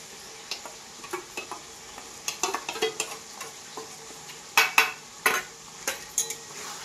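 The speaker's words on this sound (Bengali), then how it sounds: "এবারে ভালোভাবে আমি এটাকে ভাজবো, খুব সুন্দরভাবে ভাজবো।" A spice paste of ginger-garlic, cumin and chili fries in oil with a soft background sizzle, while a spatula scrapes and clinks against the pot in irregular bursts, some of them loud.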